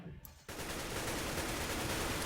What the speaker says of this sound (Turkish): Yeşildekileri de tarıp vur abi.